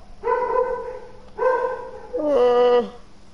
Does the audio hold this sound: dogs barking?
yes